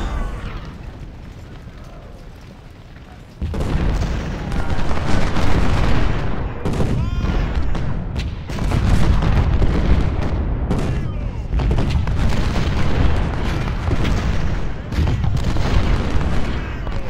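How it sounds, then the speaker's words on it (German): Cannon artillery thunders in the Ultimate General: Civil War video game, a Hall's Ferry Road battle: dense, overlapping booms and gunfire crackle loudly and continuously after a quieter opening. "Diese Kanonen machen uns hier das Leben schwer."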